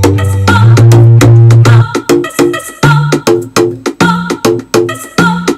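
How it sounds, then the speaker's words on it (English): Synth tone built in Logic from a pitch-tuned, manipulated conga sample, playing a loud, punchy pattern of short pitched hits with sustained low notes at first, then a choppy rhythmic sequence; no talking. "I made this synth using a conga."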